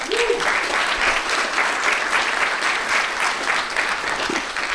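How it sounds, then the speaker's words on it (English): A summit audience gives steady, sustained applause for event sponsors, a dense wash of many hands clapping at an even level throughout. "Can we have a round of applause for them?"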